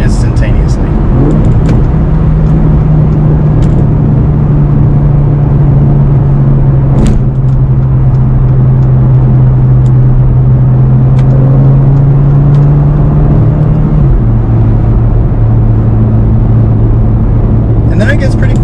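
Mercedes-Benz GLA 45 AMG with a four-cylinder engine pulls steadily through its gears, a sustained droning hum holding pitch then dropping slightly at a shift, with a faint voice in the background.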